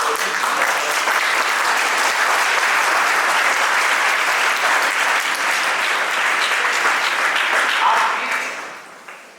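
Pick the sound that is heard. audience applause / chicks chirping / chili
audience applause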